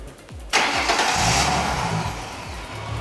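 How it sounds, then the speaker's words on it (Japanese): A Ford Mustang's 4-litre V6 engine cranks and catches after a brief starter whir, then settles into a steady, fairly loud idle nearby. "ちょっとエンジンかけてみてください"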